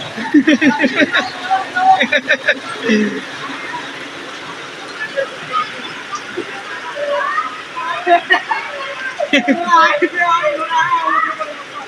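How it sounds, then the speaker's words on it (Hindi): A steady wash of heavy rain hisses throughout in Rahim Yar Khan while people talk over it in bursts, with background chatter and occasional splashing. "बारिश मुसलसल हो रही है, रुकने का नाम ही नहीं ले रही है"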